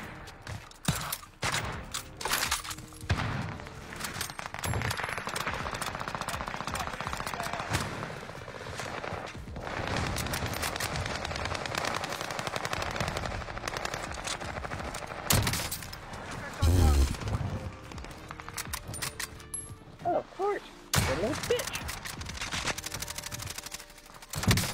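Bursts of automatic gunfire and single shots crack through a first-person shooter match, repeated volleys near and loud across the whole stretch, with occasional thuds and a player's voice talking over parts of it.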